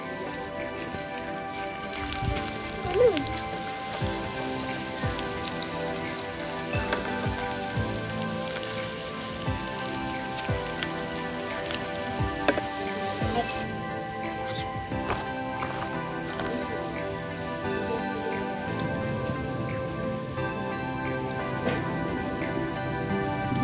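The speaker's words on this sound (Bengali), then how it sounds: "এইভাবে সমস্ত পকোড়াগুলোকে ভেজে নেব" Chicken pakoras deep frying in hot oil give a continuous rain-like crackle and sizzle, with scattered pops and light clatter throughout.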